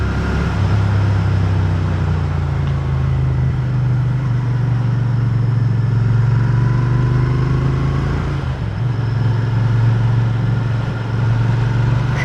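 Royal Enfield Interceptor 650 motorcycle engine pulling uphill on a wet road, a steady loud low drone with a slow pitch rise and a brief dip near the end, as if easing off before pulling again.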